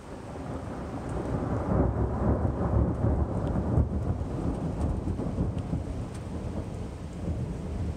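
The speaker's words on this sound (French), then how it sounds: "Deuxième orage surprise." A thunderstorm with a long, deep rolling rumble of thunder over a constant roar of heavy rain.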